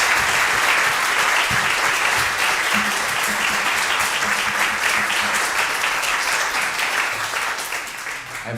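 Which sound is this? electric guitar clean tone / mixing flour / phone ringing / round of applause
round of applause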